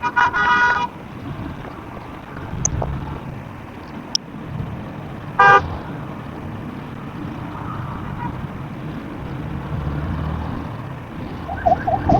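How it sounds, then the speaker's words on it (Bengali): Brief horn blasts from a car on a city road, a short burst near the start and another around midway, standing out over steady traffic and wind rumble. "Why this car is giving VIP horn?"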